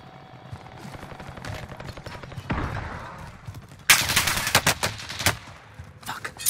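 Bursts of video game gunfire, quiet at first and then louder with sharp separate shots and rapid volleys, near and punchy over a low background.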